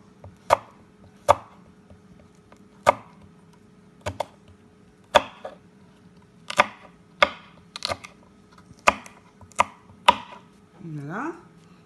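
A knife finely chops okra on a cutting board in a run of crisp, close knocks at an uneven pace, about a dozen strikes, with a short faint voice sound at the end.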